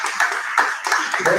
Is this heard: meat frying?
no